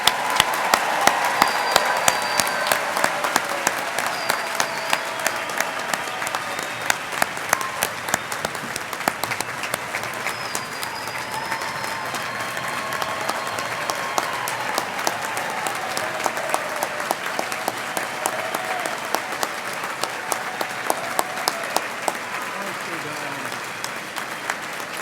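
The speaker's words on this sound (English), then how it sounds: "Please join me in giving all our graduates a well-deserved round of applause" An audience at a graduation ceremony gives graduates a long, steady round of applause, many hands clapping evenly at moderate distance for over twenty seconds, with occasional voices mixed in.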